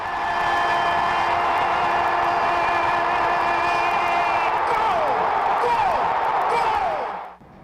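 A packed stadium crowd roars for a football goal, with a loud, dense wall of cheering and whistling that holds steady for several seconds before cutting off abruptly at the end.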